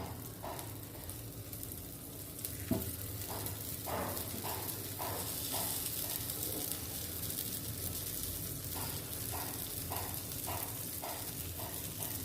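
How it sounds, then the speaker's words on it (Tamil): Paniyaram batter poured into a hot pan, a soft, fairly quiet sizzle with a run of small regular crackles and taps, no talking. "நம்ம இன்றைக்கி பணியாரம் ஊற்றுறோம் பாருங்கள்"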